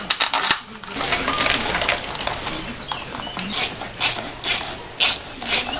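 Ratchet wrench clicking as it tightens 13 mm bolts for the wiring harness on a 2000 BMW 530d E39 diesel engine, with bursts of fast clicks early and then five evenly spaced clear ratcheting strokes, close and alone.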